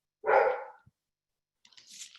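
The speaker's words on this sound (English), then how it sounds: "my dog's barking" A pet dog barks once loudly and close, followed by a brief pause and then a fainter, higher yelp or whine, in an indoor home setting.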